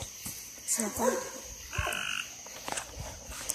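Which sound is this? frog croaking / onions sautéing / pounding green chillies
frog croaking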